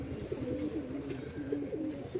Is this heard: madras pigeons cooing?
yes